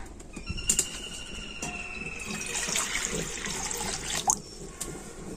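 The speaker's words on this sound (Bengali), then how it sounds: "কড়াতে আমি দিয়ে দিচ্ছি জল" Water pours and splashes into a wok on a stove in a home kitchen, with a few sharp clinks of metal near the start and end, close and moderately loud.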